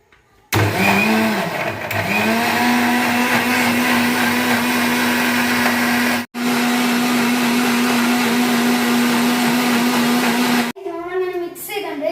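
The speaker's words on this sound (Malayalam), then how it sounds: "നമുക്കിനി മിക്സ് ചെയ്യാം. മിക്സ് അടിക്കാം" Blender whirring through an Oreo milkshake: a loud, steady motor roar runs almost the whole time, with a brief dip midway, then cuts off as a voice speaks at the end.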